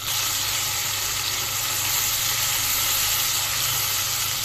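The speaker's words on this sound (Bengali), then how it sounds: "পেঁয়াজটা বাদামি রং করে ভেজে নেব" Chopped onion fries in oil after fish has been fried in the same pan, a dense, even, close hiss of sizzling that holds steady throughout without stirring accents or speech.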